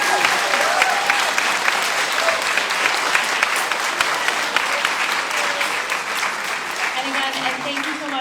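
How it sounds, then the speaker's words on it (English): Loud, sustained applause from families and friends at a school art and poetry celebration, dense hand clapping rising to honour the teachers, with faint voices mixed in near the end. "So give a round of applause to your teachers"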